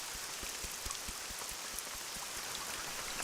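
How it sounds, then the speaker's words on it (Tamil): Heavy rain pours down steadily, a dense close hiss of drops striking surfaces with scattered louder splats throughout, with no voices. "மழை வேற அதிகமா பெய்யுதே"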